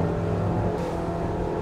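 Engines of a Scarib 9.0 boat roar at full throttle, a steady, dense, loud drone with a deep rumble that holds without breaks.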